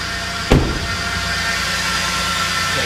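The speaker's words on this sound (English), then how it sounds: "It's pretty loud right now with cold start." A cold 3.7 liter V6 in a used Jeep Liberty idles steadily with a loud, even drone, after a short sharp knock near the start.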